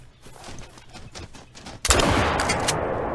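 Gunfire aimed at a pheasant in theHunter hunting game, quiet rustling followed by a sudden loud burst of rapid shots that sustains to the end, near and dominant.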